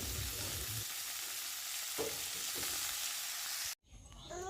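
Dheki greens fry with nigella seeds, green chili and garlic, giving a dense, steady sizzle with occasional stirring scrapes, close by; the sound cuts out abruptly near the end.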